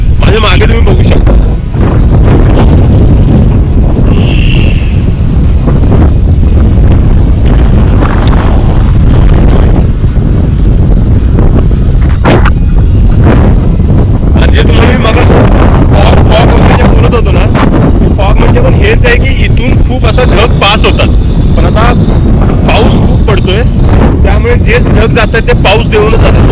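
Strong wind gusts across a hilltop windmill site near Panchgani, buffeting the microphone in loud, continuous roaring rumbles that swell and subside.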